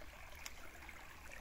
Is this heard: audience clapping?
no